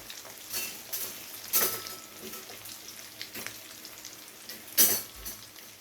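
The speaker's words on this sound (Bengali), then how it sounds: "সমস্ত পনির ভেজে নেওয়া হয়ে গেছে।" Paneer cubes fry in a pan for a no-onion, no-garlic restaurant-style masala paneer, giving a soft continuous sizzle with occasional scraping stirs and light clinks of utensils, close and without talk.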